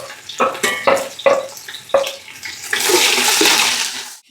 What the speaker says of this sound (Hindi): तीन 4 मिनट इसको आपने हाई फ्लेम पे हिलाते हुए फ्राई करना है